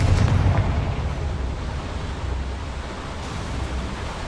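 A Confringo spell explosion in Hogwarts Legacy on PS5 produces a heavy, sustained rumbling roar. It is loudest at the start and then settles into a steady, noisy wash with no voices.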